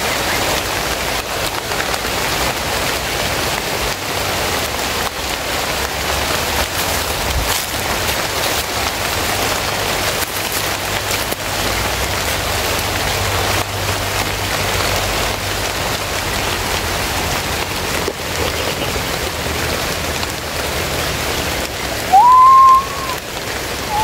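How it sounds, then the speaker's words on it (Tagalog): Rain pours down in a steady, dense hiss that fills the whole stretch, with a brief high whistle near the end. "Lumakas na yung ulan mga tol"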